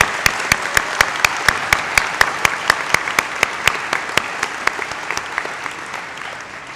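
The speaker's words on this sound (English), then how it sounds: "can we please have a round of applause for our graduates?" Applause for graduates at a college commencement ceremony, a steady wash of audience clapping with a few sharp, evenly spaced close claps standing out, gradually fading toward the end.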